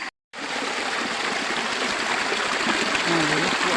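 A stream running beside a house flows steadily and loudly nearby, a constant rushing, gurgling wash after a brief moment of silence at the start.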